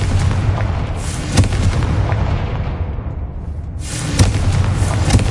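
Fire spell explosions in the video game Hogwarts Legacy, with heavy booming bursts over a dense rumbling game soundscape, including a sharp blast near the start and another later, loud and close, with no talking.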